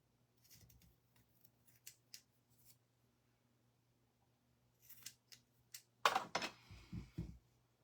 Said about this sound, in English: We're just gonna snip this evenly.